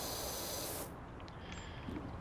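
Pressure washer jet in Powerwash Simulator, a steady broad hiss that cuts off its bright top edge partway through and continues as a softer, duller spray, close and alone with no talk.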